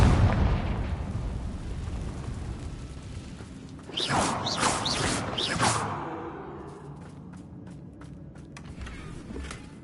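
A Confringo fire-blast spell cast in a Harry Potter video game on PS4 bursts out as a loud whooshing explosion with several sharp crackling pops, followed by a fading rumble and a scatter of fainter clicks.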